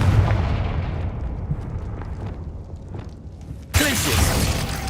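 A Confringo spell explosion in the Hogwarts Legacy video game bursts out suddenly and loudly near the end, a sharp blast that rises out of a low rumbling game background.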